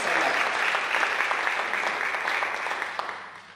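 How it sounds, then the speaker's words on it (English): An audience at a Hall of Fame fundraising event at a community college claps steadily, a dense, fairly loud wash of applause that fades slightly toward the end. "I think that deserves an applause."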